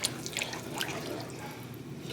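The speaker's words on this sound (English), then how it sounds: "we're going to go in with a little water" Water poured into a pizza dough mixture, a soft, close trickle with a few splashy drips, steady and faint throughout.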